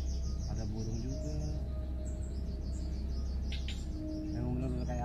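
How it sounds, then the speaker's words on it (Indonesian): Birds chirp and tweet in a forest by a lake, several overlapping calls scattered across the clip over a steady low background hum, with no speech. "Ada burung juga."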